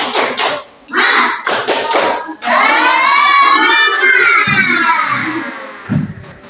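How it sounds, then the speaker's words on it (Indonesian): A group of children in an Indonesian classroom claps a quick rhythmic 'tepuk semangat' cheer, loud close bursts of claps followed by a sustained chorus of shouting voices. "kita tepuk semangat dulu"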